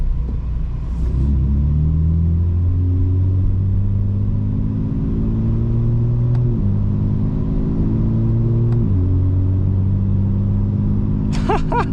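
A 900 hp 2025 BMW M4 Competition xDrive surges forward in city driving, its loud engine note climbing in pitch through several gear changes, heard close from inside the cabin.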